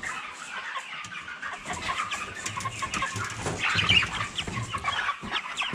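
Cobb-500 broiler chickens cluck and murmur continuously inside a poultry house, a dense flock chorus at steady moderate loudness with overlapping calls and no speech.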